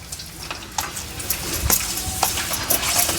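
Ribbon vadiyalu frying in hot oil, producing a continuous bubbling sizzle punctuated by sharp crackles and pops, close and fairly loud.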